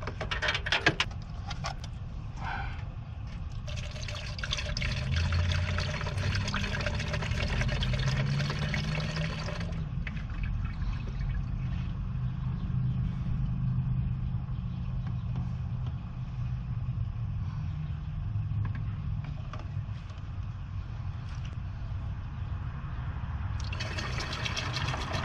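Coolant is poured into a car's coolant reservoir on a cold engine, making a steady, low liquid trickle and glug that runs for about twenty-five seconds with no talking.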